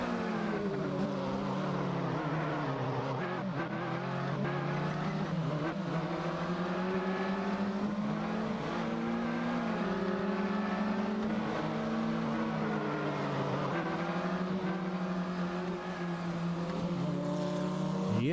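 Race cars in a sim racing game drone steadily with a continuous engine roar that rises and falls as gears shift, other cars circling close by throughout.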